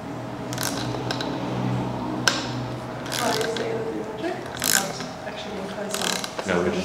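Torque wrench tightening a bolt on the lower leg of a bike suspension fork, giving a few sharp mechanical clicks and ratcheting sounds spaced apart, close up and fairly quiet against a background hum.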